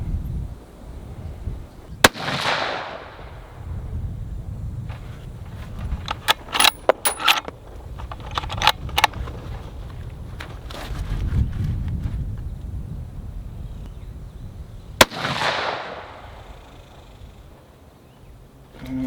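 Two sharp, loud rifle shots from a Savage Ultralight chambered in 6.5 PRC, fired about thirteen seconds apart outdoors at a range in gusty wind, each a sudden crack with a short tail over steady background rumble and scattered small clicks.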